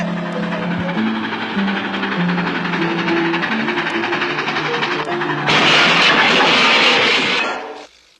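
A cartoon toy train rattles along with tooting whistle notes, then a loud crashing burst of noise that quickly dies away into silence.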